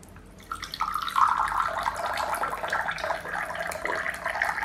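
Hot water pours from an Aladdin 400 ml tabletop thermos jug into a cup, a steady splashing stream that starts abruptly and runs continuously, close and fairly loud, with no talk.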